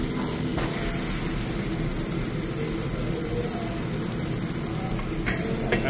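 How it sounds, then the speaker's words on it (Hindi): An omelette for a chicken kathi roll fries on a hot griddle at a Punjabi food spot in Brampton, giving a loud, continuous sizzle with faint scraping and bustle around it. "सो लवप्रीत बना रहे ने इसलिए ऑमलेट"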